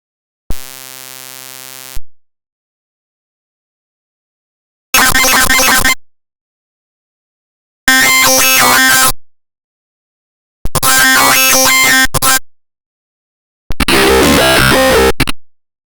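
Neurobass synthesized from a spoken phrase in Serum with added distortion and compression: a steady tone, then four separate bursts of gritty, buzzing bass, each about a second long with silent gaps between, loud and dry.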